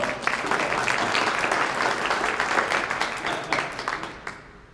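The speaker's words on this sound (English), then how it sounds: "Hey, round of applause." Steady applause from the audience at a city council candidates forum, many hands clapping evenly for about four seconds before tapering off quickly.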